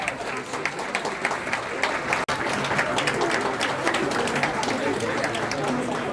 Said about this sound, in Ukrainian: Вітайте оплесками, діток.